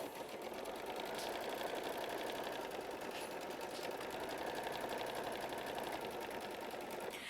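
A quilting sewing machine runs at steady speed, stitching to tack a block piece down, a continuous fast rhythmic whirring of needle strokes throughout, close and even.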